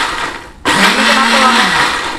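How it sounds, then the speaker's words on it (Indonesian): An electric blender blending chillies with water: after a quiet moment the motor snaps on loudly and runs at a high, steady whine with a droning hum, close up, with no talking. "aku mau ngeblender dulu cabai buat bikin cuka"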